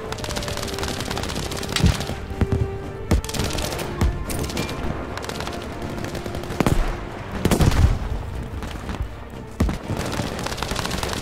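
Machine guns firing in Battlefield V during a Tirailleur war story, sharp repeated bursts of gunfire with heavy booming shots at irregular intervals over a constant battle din, no talk.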